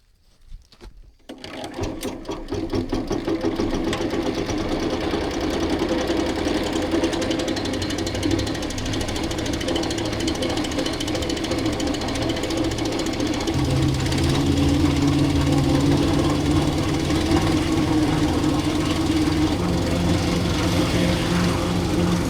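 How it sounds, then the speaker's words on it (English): A homemade leaf vacuum picking up a small pile of leaves: a loud, continuous motor drone with a rattling, buzzing texture runs steadily, its pitch shifting slightly partway through, with no talking. "I'm gonna see how well our vacuum works at picking up this small pile of leaves"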